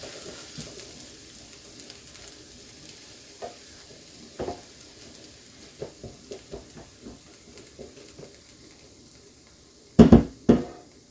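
Peppers, mushrooms and onions sizzle quietly in a pan beneath a soft, steady hiss, with scattered clicks of stirring and two loud clatters of a utensil against the pan near the end.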